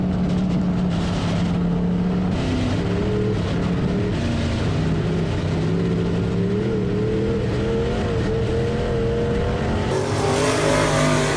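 A race car engine revs and drones loudly and steadily for several seconds, pitch rising and falling, with a sharper surge near the end.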